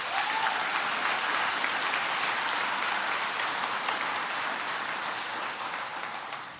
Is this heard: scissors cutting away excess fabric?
no